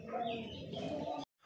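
A male pigeon at a pigeon farm gives a single low, throaty coo lasting about a second, fairly faint and close, ending abruptly.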